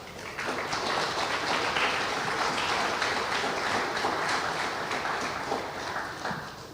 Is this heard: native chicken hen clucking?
no